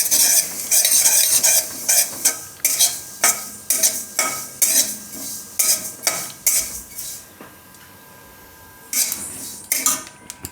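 Sesame, fennel and whole coriander seeds roast in a pan, a dry sizzling crackle broken by repeated scraping strokes of a spoon stirring against the metal, loud and close with a brief quieter pause near the end.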